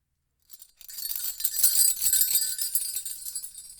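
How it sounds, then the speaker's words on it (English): A bunch of keys shaken and jangled close by, a bright continuous metallic clinking and chinking that starts after a short silence and keeps rattling steadily to the end. "Hear that? These are your keys."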